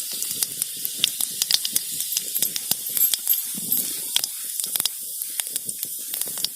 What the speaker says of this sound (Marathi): जिरी टाकून घ्यायची आता तेल तापलंय